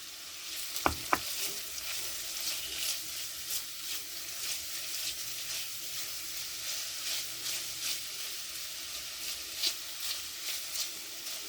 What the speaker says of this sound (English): I'm just going to cook this up just a little bit. Mix it all in together. Coat them with the olive oil.